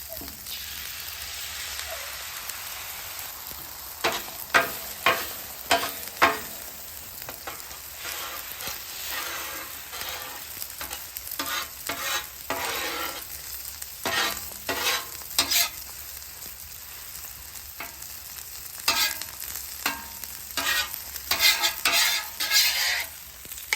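Eggs scrambled on a low griddle in leftover bacon grease, a loud close sizzle under rapid bursts of spatula scraping and tapping against the metal surface, continuous with no talking.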